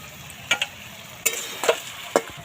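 Crab pieces with turmeric and a little salt frying in a pan, a soft steady sizzle broken by several sharp stirring scrapes and spatters, close and alone with no talk.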